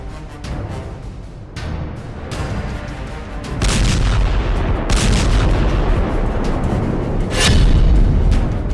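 Missile strikes and explosions in Tel Aviv during the Iran–Israel war: repeated booming blasts and gunfire-like bursts over a constant loud rumble, with heavier strikes growing louder around the middle and near the end.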